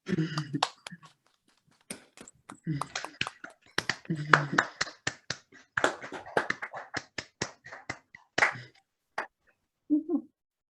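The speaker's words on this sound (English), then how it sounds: "let's get a real round of applause for Claudine, Meg, and Francine" Unmuted participants in an online gallery meeting clap in scattered, uneven bursts. Individual claps and taps come through thin and close, mixed with brief voices, then trail off into isolated sounds.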